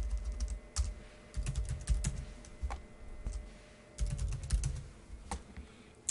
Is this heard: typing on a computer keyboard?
yes